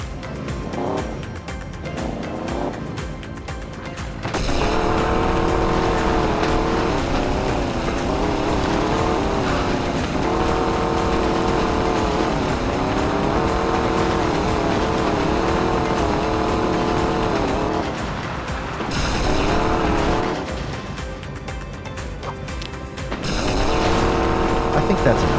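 Simulated car engine in a forest driving game cold-starts with a rough burst, then drones steadily under acceleration for most of the stretch, dipping briefly before revving again; no talk.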